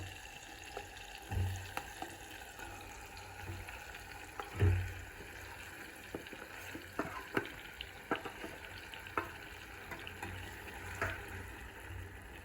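Stuffed brinjals sautéing in a pan over medium heat, a soft steady sizzle with occasional dull knocks and scrapes of a spatula, close and fairly quiet throughout.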